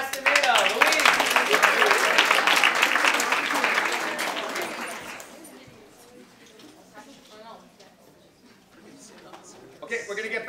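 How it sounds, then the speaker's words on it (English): An audience claps for a contestant at a high school Poetry Out Loud competition. The applause is dense and loud for about five seconds, then fades into quiet room sound and a few scattered claps. "let's have a round of applause for Luis Castaneda"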